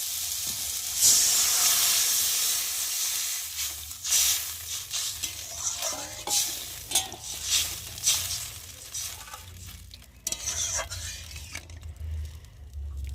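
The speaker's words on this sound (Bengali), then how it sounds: "আর এখন আমি জল দিয়ে ভালো করে ফুটিয়ে নেব।" Bengali-style fish curry masala cooks in a pan after water is poured in, hissing and sizzling with bursts of steam, scraping stirs and bubbling at varying loudness, with no talking.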